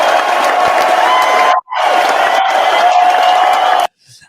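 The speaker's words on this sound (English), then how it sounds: "I've never had an applause before in many years." A talk-show audience cheers and whoops loudly to welcome a guest. The dense crowd noise breaks off briefly once, resumes, then stops abruptly near the end.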